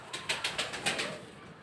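A pigeon at a pigeon farm beats its wings in a quick series of about six soft, fluttering flaps, faint and close, then falls quiet.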